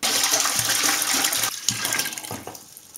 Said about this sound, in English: we pour the whole content of the 5-liter bottle in the pot